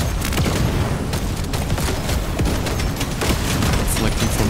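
Gunfire in the video game Deep Rock Galactic Survivor, a dense, loud, continuous stream of shots and impacts with no break and no voices.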